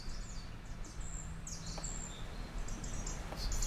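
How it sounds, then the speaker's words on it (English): Forest ambience from a primeval forest, with scattered high bird chirps and calls over a steady low rustling bed of wind and distant stream noise, faint and continuous throughout. "It's nice to listen to some forest noises."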